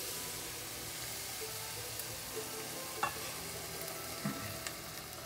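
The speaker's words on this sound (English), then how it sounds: "So we're ready to add our 1 cup of cream." Cream poured slowly into a hot pan of spinach for Tuscan chicken, giving a steady soft sizzle and frying hiss with a few faint clinks, moderately quiet and without talk.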